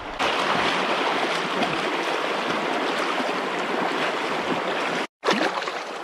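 A creek in the Yukon wilderness rushes in a steady, close, loud wash of water, broken by a brief dropout near the end.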